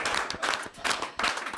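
A French audience at a Brûleurs de Loups hockey event applauds in short bursts, clapping swelling and dipping three times over a brief, fairly faint stretch.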